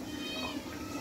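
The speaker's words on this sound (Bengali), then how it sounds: "বিড়াল এসে বসে দেখার জন্য" A cat meows once, faint and drawn out, in a home kitchen where food is being cooked. Low background noise surrounds the call.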